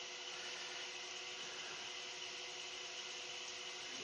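Continuous sanding of soft wood, a steady broadband abrasive hiss that runs unbroken and fairly loud at close range, with no voices over it.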